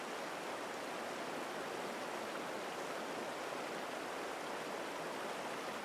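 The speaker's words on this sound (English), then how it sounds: "Now we're coming up to Bridal Veil Fall." Bridal Veil Fall, a waterfall, pours with a steady, dense broadband roar of rushing water, constant and unbroken throughout, with no voices.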